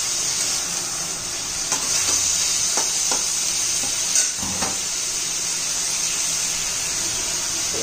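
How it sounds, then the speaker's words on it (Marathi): Potato, capsicum and cabbage frying in a pan for a dry vegetable dish, a steady close sizzle with occasional scraping clinks of a spoon stirring, no talk over it. "एक 2 मिनिटं जरा चांगल्या भाज्या शिजवून घेऊया"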